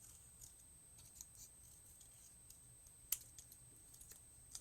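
Scissors cut a piece out of paper for a construction trifold, with faint, close, scattered snips and one sharper clip partway through.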